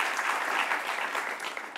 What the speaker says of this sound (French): Applaudissements s'il vous plaît pour nos invités.